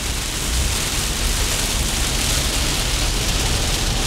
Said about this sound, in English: I don't know if you can hear the rain, but it is coming down in buckets